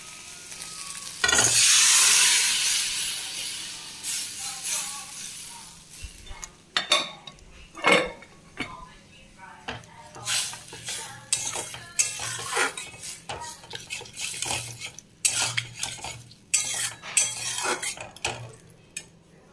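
Dal added to a pot of hot oil with bay leaf, dried chilli and turmeric, a loud sizzle at first, then a spoon scraping and clinking against the pot as it is stirred.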